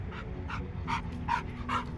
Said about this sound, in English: Big Bubba, he's about to come over here and give this tan dog a warning